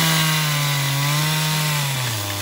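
A chainsaw carves into a standing red oak roughly 18 feet tall, the engine droning loud and steady throughout before its pitch drops slightly at the end.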